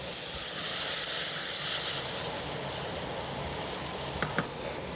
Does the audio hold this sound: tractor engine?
no